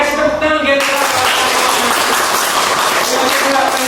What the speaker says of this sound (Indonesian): Gue kasih tepuk tangan